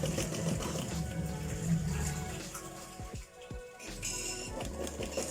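A sewing machine stitches around an Ankara fabric patch set inside bias binding, with a rapid, even mechanical whir, a brief pause near the middle, then more stitching, close and moderately quiet, without speech.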